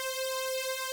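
A bright, sustained synth tone from a rage beat, notes doubled one octave up, holding steady with a strong stack of high harmonics for about a second, alone and fairly loud.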